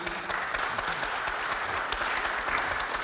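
Conference audience on urban terrorism applauding, a brief, dense, steady clapping from a room full of people with faint murmurs underneath.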